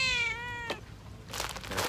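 A cat near a Thai shrimp-trapping spot, by bait made from small-fish feed, gives one clear, drawn-out meow, then a short sharp sound and some rustling noise.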